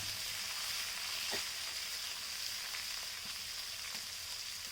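Spices being stirred into hot oil on a clay village stove while cooking a koi fish curry, giving a steady soft sizzle with a faint scrape from stirring, unbroken and without voices.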